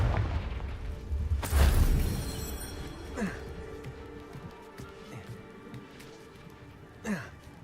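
A Confringo fire spell explodes in Hogwarts Legacy with a heavy, close boom that rumbles and fades. Softer thuds and whooshes follow at intervals, with faint breathy vocal sounds in between.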